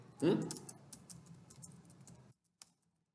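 Typing on a computer keyboard while setting up a Facebook page: a burst of quick, light key clicks runs for about two seconds under someone speaking, then stops, with one last isolated tap.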